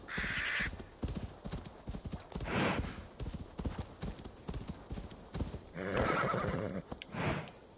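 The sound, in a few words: horse neighing in a video game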